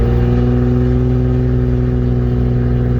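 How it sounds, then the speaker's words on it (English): A Cummins diesel engine runs loud and close while accelerating, a constant deep rumbling hum that holds steady without pause. "you can hear Cummins, you know, accelerating with that pitch"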